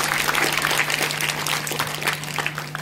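A crowd claps loudly during a religious discourse at a math, dense continuous applause close by with a faint background hum throughout.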